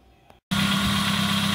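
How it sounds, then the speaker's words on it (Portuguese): A warmed-up car engine idles during a charging test on a car whose battery was not recharging. After a brief near-silent moment, a steady, close, loud mechanical hum starts abruptly and runs on unchanged. "Estamos testando, o motor já está aquecido."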